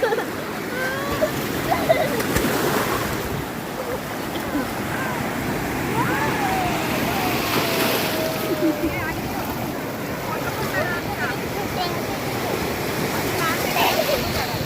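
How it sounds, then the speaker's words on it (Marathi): Ocean waves wash and hiss continuously on Tarkarli beach in Konkan, a broad steady surf noise with wind buffeting the microphone. "एक लाट आली संस्कृती."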